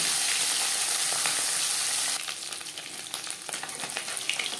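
Small bata fish coated in salt and turmeric hit hot oil, giving an intense close sizzle that drops after a couple of seconds to a softer, crackling fry.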